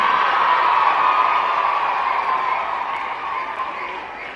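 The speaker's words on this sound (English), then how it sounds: "So please give big applause." Crowd applause and cheering at a live ceremony honoring the governor of Tamil Nadu, a steady broad wash of clapping that fades gradually toward the end.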